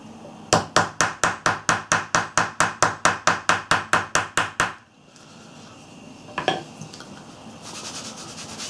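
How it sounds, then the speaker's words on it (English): A hammer taps a Seiwa pricking iron into leather, striking about seventeen sharp, evenly spaced blows in quick rhythm, then stopping, followed by faint scraping and handling noise. "Let's give it a tap with the hammer."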